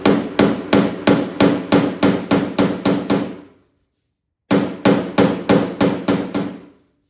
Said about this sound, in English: just take your body hammer with your pointed end and you just wanna lightly tap that down.